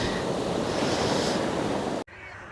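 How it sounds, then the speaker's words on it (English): Ocean surf rolls in at Thomas Beach in Uluwatu, Bali, a loud, continuous wash of breaking waves with some wind, cutting off abruptly near the end. "It's just so beautiful, wow. And that's Thomas Beach."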